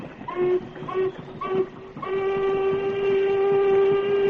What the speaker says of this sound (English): I'll try another signal on the whistle.